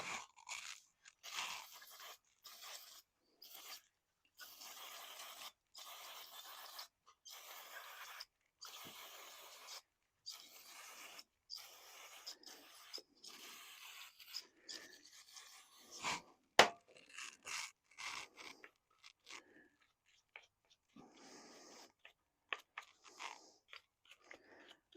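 Scrubbing grime off Kohler Courage engine carburetor parts: a quiet, close, continuous run of gritty brushing strokes in uneven bursts with brief pauses, all without speech.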